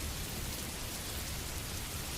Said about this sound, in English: As the night progresses, the rain grows heavier